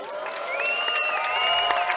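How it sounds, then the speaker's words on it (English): Canadian fans at a CS:GO LAN finals match, Canada versus France, give a loud crowd cheer with sustained whooping voices over a bed of applause. "can we get a cheer for maple syrup"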